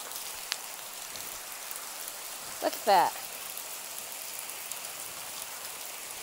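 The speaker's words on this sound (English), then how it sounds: "It doesn't normally hail here." Hail falls outdoors on a cold, rainy day, making a soft, steady patter that runs throughout at low level, with a brief voice speaking near the middle.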